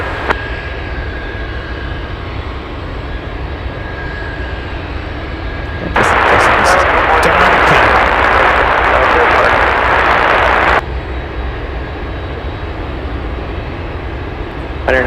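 A Giant 753 Heavy cargo airliner, a Boeing 747, powers up for takeoff on runway 33 at Anchorage airport. Tower radio talk runs first, then a loud, broad jet-engine roar swells in for several seconds before cutting back to radio chatter.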